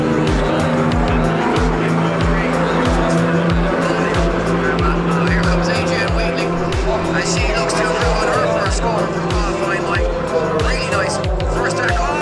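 Drift car tires squealing through a handbrake drag at an Irish Drift Series event, loud continuous screeching and engine roar with rapid pulsing, crowd noise and talk over the top.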